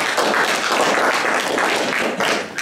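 Council meeting audience applauding after a public speaker, a steady, full wash of many hands clapping in a room, fairly loud and sustained, with no voices over it.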